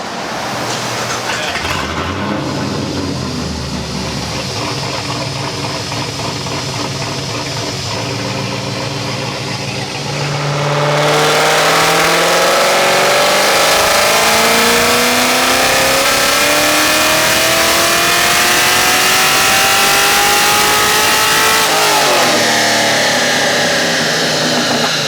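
Chevy Caprice V8 running with its mufflers removed: a rough idle, then a loud roar as it revs hard and climbs steadily in pitch, holds near the top, and drops back briefly near the end.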